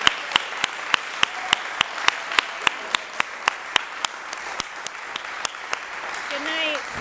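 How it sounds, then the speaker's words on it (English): An audience applauds storytellers at a live storytelling event, a steady wash of clapping punctuated by sharp, evenly spaced claps, with a brief tonal sound near the end. "How about one more round of applause for our storytellers?"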